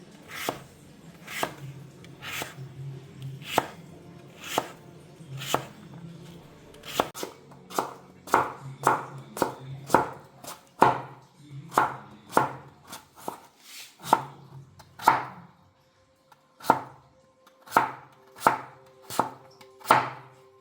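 A knife chops papaya into small pieces on a cutting board with crisp, sharp strokes in a fairly steady rhythm and a few short pauses.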